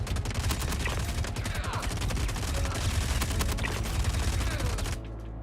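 Sustained full-auto gunfire in the Star Citizen space game, a dense rapid stream of shots over heavy low rumble, loud and continuous for about five seconds before cutting off abruptly.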